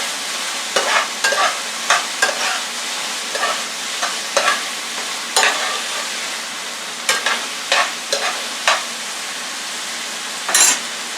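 Garlic and vegetables frying in a pan for a vegan veggie bowl, a steady close sizzle broken by repeated scraping stirs of a utensil against the pan, with no voices.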